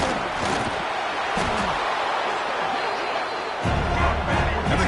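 A video game football stadium crowd roars as the home defense is pushed deep into the red zone. The dense, steady cheering fills the whole stretch and swells with a heavier low rumble near the end.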